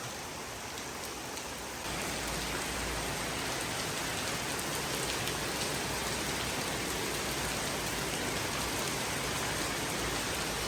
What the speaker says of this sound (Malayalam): നല്ല ശക്തമായ മഴ